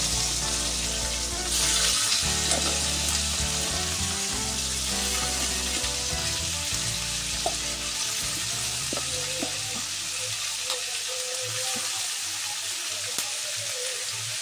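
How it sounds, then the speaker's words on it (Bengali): Cumin seeds and green chillies hit hot oil in a pan while cooking a fish curry, giving a loud, crackling sizzle that spits and pops before settling into a softer, steady fry. "এবার আমি এগুলিকে দিয়ে দেবো তেলের মধ্যে।"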